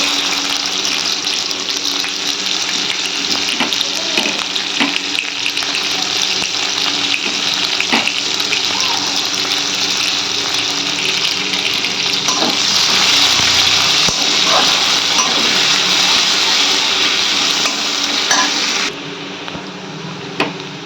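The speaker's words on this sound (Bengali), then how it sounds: "এবার দিয়ে দিচ্ছি পেঁয়াজ" Onions sizzling and frying in a pan for a Bengali home-cooked dish, a steady close hiss that swells louder midway and then drops back, with no talking.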